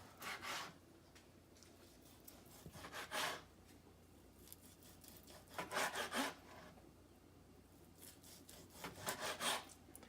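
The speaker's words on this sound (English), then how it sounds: "And we're gonna slice quarter inch slices." A knife saws through cooked tri-tip beef in four separate strokes, each cutting a quarter-inch slice with a close, soft rasping sound and quiet pauses between them.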